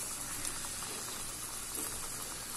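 KFC-style popcorn chicken deep-frying in hot oil over a medium flame gives a steady, dense crackling sizzle that holds evenly from start to finish, close by and with no voices.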